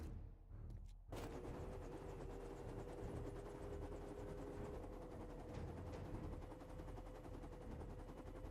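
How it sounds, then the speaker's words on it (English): Helicopter in the survival game 7 Days To Die, a steady mechanical rotor drone with a constant whine that starts abruptly after a second of near silence and runs loud and continuous to the end. "Oh, that's my helicopter."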